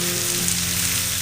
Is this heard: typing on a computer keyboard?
no